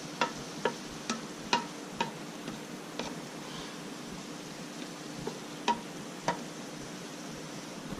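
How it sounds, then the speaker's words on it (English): Shrimp cooking in a pan for a stuffed squash dish with ham: a faint, steady sizzle with scattered light ticks and clicks from stirring, quiet and without voices. "just going to cook it until the shrimp turn pink"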